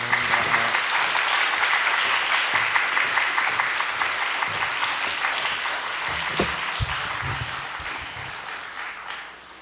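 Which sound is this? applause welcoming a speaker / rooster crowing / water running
applause welcoming a speaker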